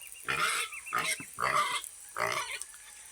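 A pig in a garden gives a series of four rough, nasal grunts in a slow, uneven rhythm, each lasting about half a second. The animal is close and moderately loud, with no talk.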